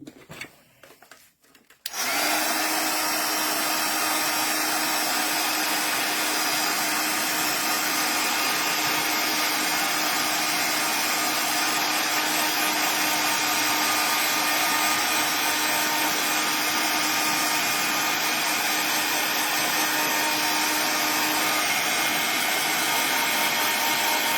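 A handheld dryer blowing to dry paint starts after a brief rustle and runs as a loud, steady whirring hum with a constant whine, close and unbroken for over twenty seconds.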